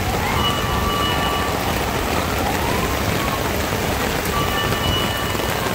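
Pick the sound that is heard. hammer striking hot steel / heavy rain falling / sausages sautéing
heavy rain falling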